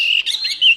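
An orange-headed thrush sings a short, loud, close burst of bright whistled chirps, clear and alone.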